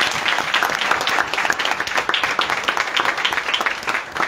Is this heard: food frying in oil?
no